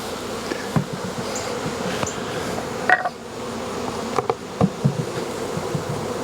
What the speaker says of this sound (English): That one's got a few more bees.